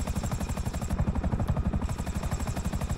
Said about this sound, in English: Finally, some guy came in a helicopter